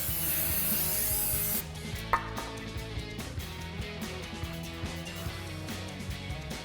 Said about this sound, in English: we'll just use some brake cleaner and a clean cloth to wipe it down real good